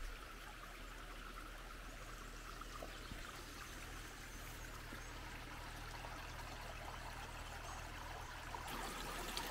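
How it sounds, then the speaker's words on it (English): Water flows steadily over a weir in a creek at the edge of a farm, a faint, continuous rushing trickle with no voices. "This is the water leaving the farm that arrive"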